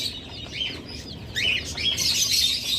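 Caged birds in a bird shop stocking king quail of every mutation, with a steady chorus of high, bright chirps and tweets close by, growing denser and louder toward the end.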